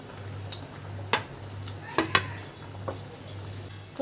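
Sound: fried paneer added to cooking mixed vegetables in a pan

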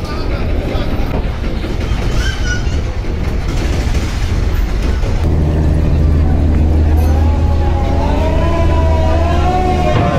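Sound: passenger launch Sundarban 15 reversing in back gear

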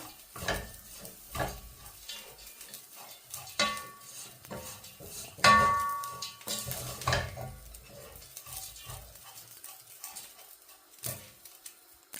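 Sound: stirring and mixing dried fish into maasi sambal

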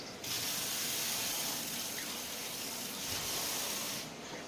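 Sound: water poured to wash rice before soaking

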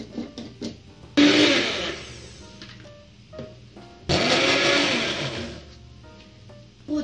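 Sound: blender pureeing cooled spinach

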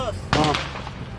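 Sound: gunfire

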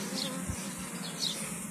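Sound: honey bees buzzing at an open hive in an apiary

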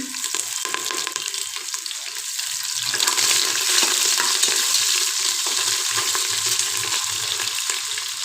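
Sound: frying chopped vegetables in a pan

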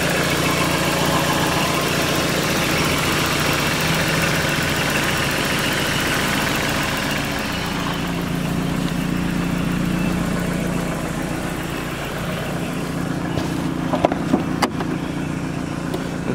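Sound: supercharged 1988 Toyota MR2 engine idling

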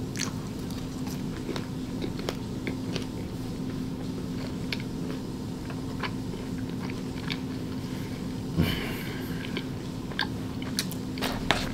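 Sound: eating Chick-fil-A, biting and chewing

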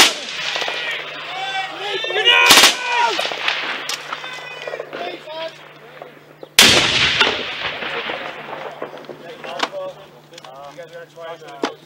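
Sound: gunfire, rifle rounds fired in Afghanistan

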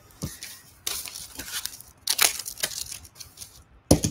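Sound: scissors cutting 70 lb steel wire cable

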